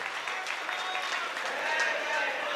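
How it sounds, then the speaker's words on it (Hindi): An audience at a Jain diksha festival gathering at Kaivalyadham claps in a dense, steady round of applause that holds throughout at fairly close range. "आप सब अपने लिए जोरदार तालियां बजा सकते हैं।"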